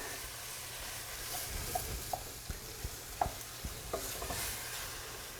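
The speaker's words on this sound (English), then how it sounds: "I'm just going to add a little bit to loosen up the squash because we don't want it to stick" Squash cooks in a pan and is loosened with a splash of pasta water, producing a soft steady sizzle with occasional stirring scrapes and light clicks of a utensil against the pan.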